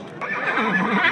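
A horse at a livestock market whinnies in one sustained, close, loud call with wavering pitch, filling the short moment alone without any talk.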